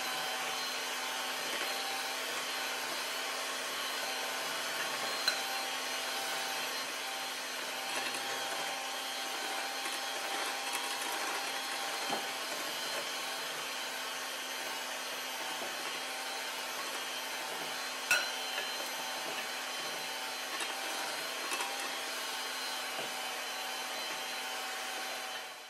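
An electric mixer mixes flour into batter, giving a steady, unbroken motor whine at moderate loudness for the whole stretch, with only slight bumps and no voices.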